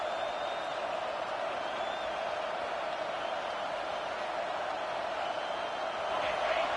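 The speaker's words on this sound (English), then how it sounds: "Decibels rising as the crowd gets behind this defense on third down." A football stadium crowd roars steadily on a third-down defensive stand, a dense, sustained wall of cheering that swells slightly toward the end, with a commentator talking over it.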